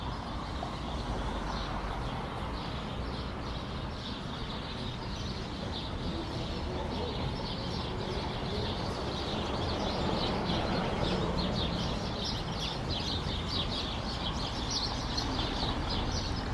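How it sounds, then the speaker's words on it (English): Noisy birds call on an October evening in downtown Toronto, a busy layer of chirps and calls repeating high above a constant low city rumble, without anyone talking. "It's noisy bird season. Listen to them."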